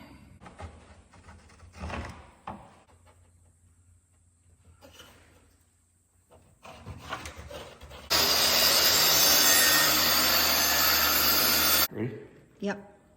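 A saw cutting through a wooden board to 42 inches for a fit behind a truck tailgate, a loud, continuous rasping burst of about four seconds after quieter handling noises and talk.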